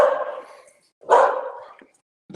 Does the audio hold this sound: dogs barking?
yes